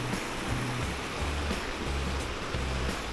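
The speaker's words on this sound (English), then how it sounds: "That's Carson River, beautiful." The Carson River flowing near Genoa, Nevada, a steady close rush of water that holds level throughout, with no voices.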